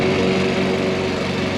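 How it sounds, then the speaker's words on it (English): A lawn mower cuts grass at a house, its engine droning steadily and loudly up close with a constant hum and no pauses. "Now he's cutting the grass here at his house."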